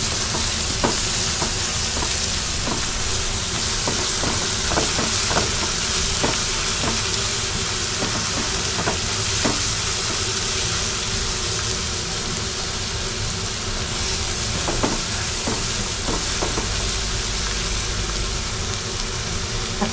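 Prawns frying hard in oil for pickle, a loud continuous sizzle and hiss with repeated stirring clatters of a spoon against the pan, close up and with no talk throughout.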